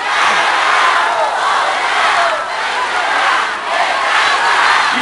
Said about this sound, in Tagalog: isang malakas na palakpak na may hiyaw!